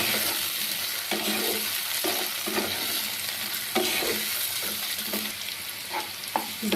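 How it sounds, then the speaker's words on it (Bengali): Cut vegetable stalks and potatoes fry in hot oil with a steady dense sizzle, close and loud, broken by repeated stirring scrapes and clatters throughout, with no talking. "এবার এই ডাঁটা আর আলুটাকে একটু ভেজে নেব"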